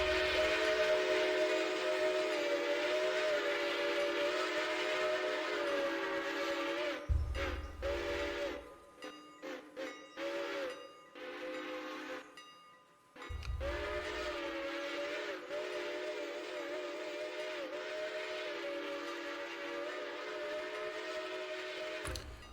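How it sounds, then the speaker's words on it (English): Narrow gauge steam locomotive whistle in the Railroader video game, sounding in long sustained blasts for about seven seconds, a stretch of short broken toots, then another long steady blast to the end. "Should I do the narrow gauge whistle blow for this one, or we just go?"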